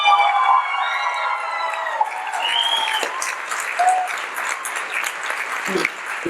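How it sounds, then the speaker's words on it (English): Audience clapping at an Arangetram classical dance debut, moderately loud and crackling, with high whistles and cheers over it early on and some murmured voices in the room. "One more round of applause for that."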